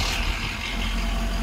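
Ford Powerstroke diesel engine on a pickup truck idling steadily up close, a continuous low rumble with no voices over it.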